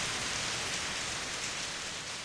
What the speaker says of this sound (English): In less than a minute, the rain turns into a full downpour.